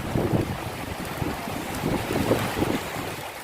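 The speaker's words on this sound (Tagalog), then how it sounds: "May kasamang ulan ang bawat hangin." Typhoon Quinta's wind and rain sweep over Batangas in the Philippines as a steady, loud broadband roar with gusting surges and low rumbling, with no voices.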